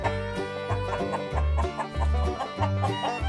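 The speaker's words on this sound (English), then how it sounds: "Look at the chickens." Chickens cluck repeatedly on a farm, with close, rhythmic bursts of clucking and a rooster-like undertone, with no talking.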